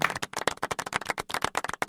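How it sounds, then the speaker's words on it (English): Brisk, close clapping from a small group of people, a dense patter of sharp hand claps lasting a couple of seconds. "Everyone clap."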